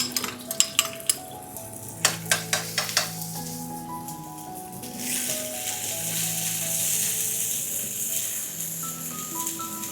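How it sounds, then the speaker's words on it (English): Garlic hits two tablespoons of cooking oil in a medium-hot pan, opening with a few sharp clinks of utensil against pan before a steady, bright sizzle of frying takes over and holds for the rest, close and fairly loud. "2 tablespoons of cooking oil into a medium hot pan. In with the rest of our garlic."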